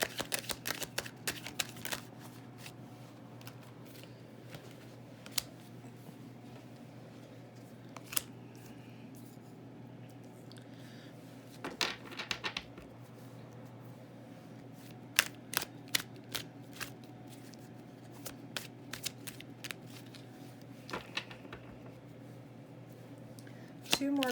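Tarot cards being shuffled and laid out during a reading, soft papery riffles and scattered crisp snaps spread across a quiet background, with brief bursts of shuffling between longer pauses.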